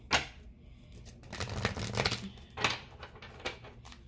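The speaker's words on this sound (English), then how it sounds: "Shuffle 3 times and flip the deck." A deck of cards is shuffled by hand at close range, with quick riffling bursts and soft flicks repeating across a few seconds, fairly quiet with no talking.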